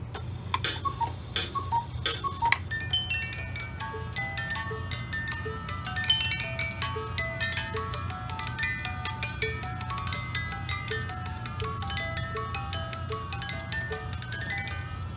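A repaired wooden cuckoo clock ticks steadily and evenly, close and clear, with bright metallic chime-like tones ringing over the ticks and a low constant hum underneath.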